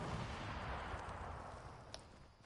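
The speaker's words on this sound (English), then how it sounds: "Who's throwing grenades?" Explosions in a Fortnite match, a dense, continuous rumble of blasts and gunfire-like bursts filling the whole stretch at steady loudness, with one sharper pop near the end.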